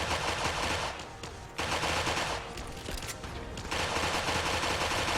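An unsuppressed Institute Pistol mod in Fallout 4 fires 5mm caseless rounds in sustained rapid automatic bursts, loud and close, with a short pause partway through.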